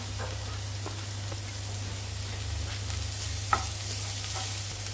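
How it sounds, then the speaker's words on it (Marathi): Chili, capsicum and carrot frying in a pan for veg spring rolls, giving a steady, even sizzle with a few soft stirring taps and one brief knock near the end, with no voices. "चिली घायल्यान तें फ्राय करता, कॅप्सिकम घालता. ओके, फ्राय करता."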